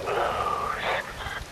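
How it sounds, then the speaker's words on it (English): Steady rain falls in the video game Metal Gear Rising: Revengeance, a continuous hiss of falling water at moderate level with some tonal layers mixed in. "Rain falls."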